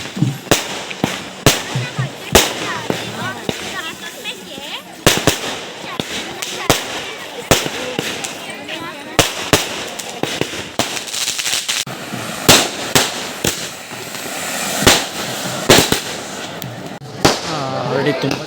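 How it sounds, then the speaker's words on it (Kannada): Firecrackers burst in rapid, irregular strings of loud sharp cracks at a village goddess cart festival, with crowd voices and chatter underneath throughout. "ಪಟಾಕಿಯೆಲ್ಲ ಹೊಡಿತಿದ್ದಾರೆ"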